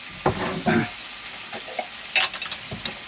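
Vegetables frying and being stirred in a pan for keefli kufta, a steady bright sizzle with scraping stirs and a few louder clatters, close and alone.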